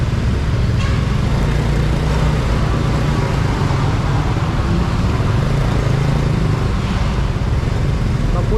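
Dense road traffic crawling along Quirino Highway in Manila, a steady close wash of car and motorcycle engines with no breaks, loud and continuous throughout.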